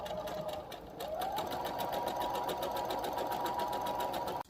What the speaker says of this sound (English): so let's start sewing. A straight stitch all the way down.